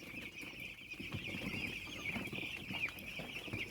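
Eight-day-old broiler chicks on a farm in the morning keep up a faint, continuous chorus of high peeping and soft clucking with no voices.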